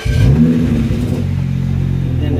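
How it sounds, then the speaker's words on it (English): A 2009 BMW 335i convertible's engine cranks and catches, a brief rough revving burst settling quickly into a steady, close idle rumble. "So I got to start my car so I can move it into drive."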